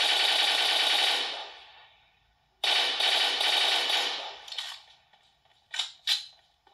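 Automatic gunfire in PUBG Mobile plays as two long, loud, sustained bursts, then a couple of short ones, with quiet gaps between and no voices.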